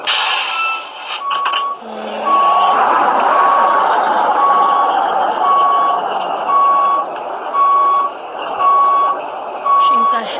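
Truck reversing alarm in Euro Truck Simulator sounds as a steady series of evenly spaced electronic beeps, about one per second, over a rumbling engine drone, after a brief opening clatter.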